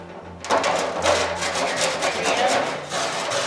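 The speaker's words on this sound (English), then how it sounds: "Anytime you can scrape those little bits off the bottom and get them into your dish" Browned bits are scraped off the bottom of a pan while making brown stock, a continuous rough rasping scrape with repeated strokes and a low steady hum underneath.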